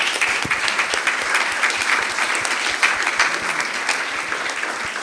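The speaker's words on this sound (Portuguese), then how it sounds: "Joana, uma salva de palmas." Talk show audience giving a warm round of applause to a guest, dense, continuous clapping from a roomful of people, loud and steady for the whole stretch.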